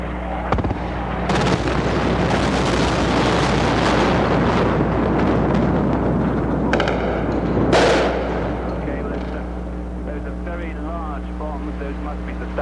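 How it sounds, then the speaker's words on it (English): Large bombs, estimated at 1,000 pounds, explode during a nighttime air raid, sending deep booming blasts and rumbling shock waves over a balcony, with sustained roaring and a sharp burst near the end while someone talks. "Much, much larger explosions than last time. Huge shock waves coming through the balcony"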